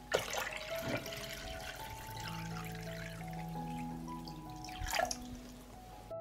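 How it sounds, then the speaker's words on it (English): Water is poured into a pot of glass jars resting on a cloth for pasteurizing. It makes a faint, close trickle with a couple of splashier spots, and no one speaks. "I pour water into the pot up to the height of the lid."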